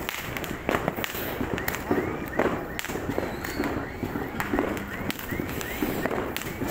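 New Year's fireworks crackle and pop in rapid, irregular bursts throughout, a dense outdoor barrage of sharp bangs at moderate distance, with people talking and shouting faintly underneath.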